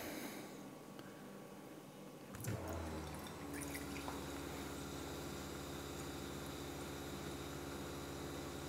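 A Simpure T1-400 reverse osmosis system's pump starts running with its pressure tank bypassed, bringing a steady close hum and a continuous rush of flowing water after a brief, quieter trickle.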